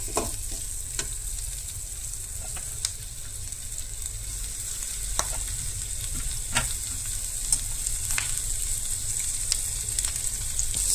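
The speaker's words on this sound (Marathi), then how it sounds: "आता भितर सोय ऍड करूया।" Grated coconut roasting with onion in a pan, a steady low sizzle punctuated by regular clicks and scrapes of a spoon stirring against the metal.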